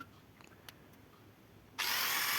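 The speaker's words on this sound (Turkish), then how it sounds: "Ondan sonra deliklerini deleceğim." A power drill bores holes for a homemade spiral windmill, starting abruptly after a quiet stretch and then running loud and steady to the end.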